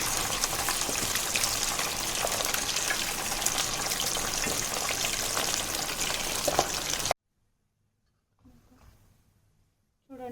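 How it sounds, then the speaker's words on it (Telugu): Mutton pieces frying in hot oil for a pickle give a loud, steady sizzle with dense crackling for about seven seconds, then drop to near silence with brief faint movement and a short return at the end. "ఆయిల్ వేడైంది కదా ఇంకా మటన్ వేసుకుందాం అందులో ఇది కూడా సేమ్ గోల్డెన్ బ్రౌన్ కలర్ వచ్చేదాకా వేయించుకోవాలి"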